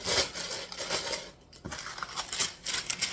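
Bread dough loaf chopped in half on a baking day, a few close crisp cutting and pressing sounds in quick irregular succession, moderately loud with no voices.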